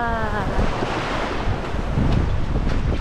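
Ocean waves wash in at Alobijod Cove on Guimaras Island, a steady loud roar of surf with heavy wind buffeting the microphone throughout and no talking.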